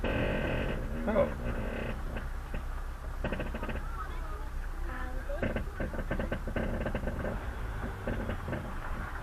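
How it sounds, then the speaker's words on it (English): A caravan's ball and hitch creaks and groans repeatedly while towing, with long scraping squeals and irregular rhythmic creaks over a steady low road rumble. "Bloody clean the ball and hitch and it creaks."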